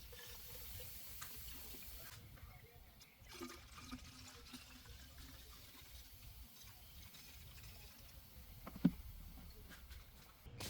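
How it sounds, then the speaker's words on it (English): Coolant trickling and gurgling into the cooling system of a 2012 Chrysler 300 with a 3.6L V6, a faint steady pour with low splashing and a brief knock partway through. "So when you're adding coolant, make sure that your bleed screw is staying open."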